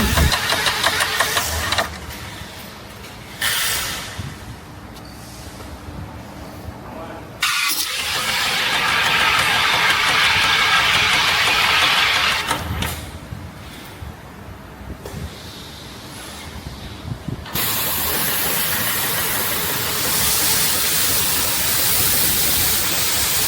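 An EA895S engine runs alone during a water test, with a steady mechanical drone and hiss that shifts level several times, getting louder and rougher in places, close and continuous.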